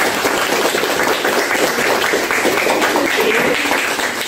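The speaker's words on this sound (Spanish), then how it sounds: "Den un aplauso a las tres coordinadoras." Steady applause from an audience honouring three coordinators at a preparatory academic gathering on constitutional theory, many hands clapping continuously at an even loudness, close and full, with no one speaking over it.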